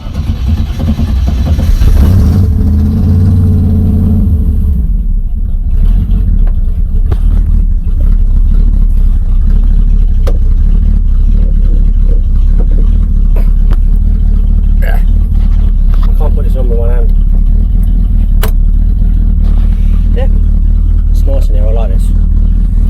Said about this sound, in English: I figured I'd actually start it up for you on camera, because although it is only a Rover V8, it does sound fucking lovely.